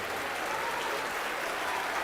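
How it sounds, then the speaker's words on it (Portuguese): Congregation applauding during a church service, dense sustained clapping filling the hall steadily throughout with no gaps. "Então dê uma salva de palmas poderosa para esta palavra."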